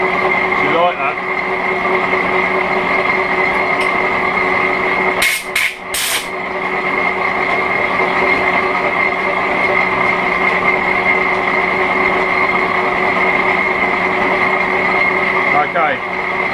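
A vintage Hendey metal lathe turns steadily as a high-speed-steel tool cuts metal, giving a continuous near machine drone with a sharp burst of clatter midway, while speech is likely present.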